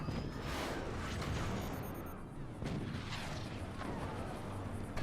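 Cannons and howitzers firing during a live match of a strategy video game: a dense, continuous barrage of booms and blasts that stays loud throughout, with a muffled voice underneath.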